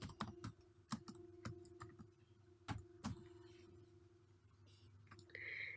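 Someone types code on a computer keyboard, with sharp, irregular keystrokes in quick bursts and short pauses between them over a faint steady hum. Nobody speaks.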